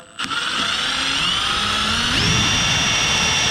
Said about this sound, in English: So I've got the 2mm drill bit straight into the center.